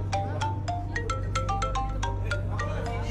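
A melodic electronic ringtone plays a quick run of bright notes over a steady low hum, loud and close.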